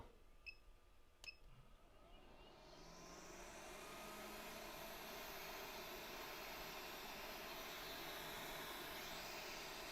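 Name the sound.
hot air rework station blowing at 350 degrees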